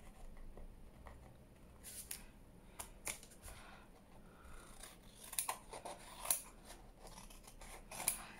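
Scissors trimming paper while making black and white junk journal ephemera, with a run of soft snips and small paper rustles, close but quiet in a still room.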